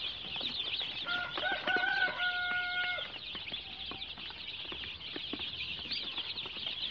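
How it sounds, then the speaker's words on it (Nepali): Local chickens and chicks on a small farm cluck and chirp close by, with a few brief wing flaps, a lively, overlapping chorus against steady rural background noise. "चल्ला यो लोकल कुखुरा हो"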